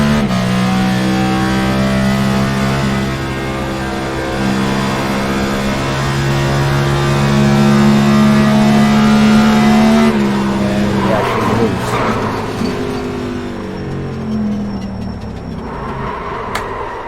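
A race car's engine drones steadily at high revs, then its tires squeal and the engine note wavers as the car spins out, loud and close throughout.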